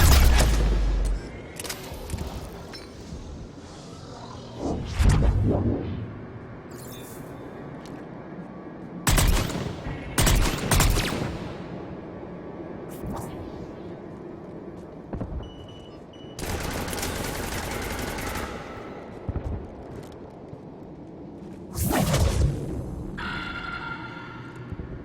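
Sniper shots and bursts of gunfire in the video game Mass Effect 3, sharp loud cracks and short volleys spaced irregularly between quieter stretches of combat ambience, with no talking.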